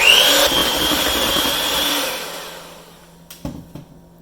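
An electric mixer whirs steadily through chocolate cake batter, loud and close, then winds down and stops, leaving a few soft knocks and clatters at the end.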